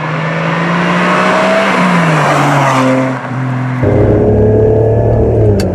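Ferrari 550 Maranello with a manual stick shift, its engine note loud and steady, dipping in pitch as gears change, then returning at a new level after a brief pause in power.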